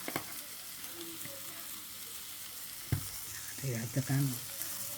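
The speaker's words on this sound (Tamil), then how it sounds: "இப்போ தேங்காய் சோம்பு நம்ம அரைச்சி வச்சுருக்கோம், அதை இதோடு சேர்க்க போகிறோம்." Ground coconut and fennel paste goes into a pan of frying masala for an Ooty butter beans curry, giving a steady sizzle with a sharp hit near three seconds and brief stirring scrapes afterward, no talking.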